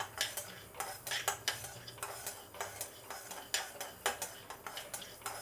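Mustard and fenugreek seeds roast in a dry pan while a spoon stirs them quickly, giving a busy run of close metallic scrapes and clicks over a light crackle, with no talking.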